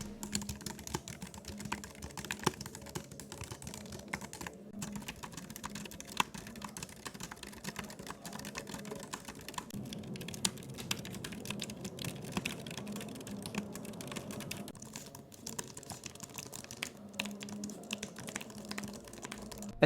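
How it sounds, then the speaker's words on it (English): Quiet, continuous typing on Logitech Mac keyboards such as the MX Keys Mini, K380s and Keys-To-Go 2, with soft, rapid key taps at an even pace and no talking. "Rather than having me describe the typing sound, I'll just let you listen to it for yourself first."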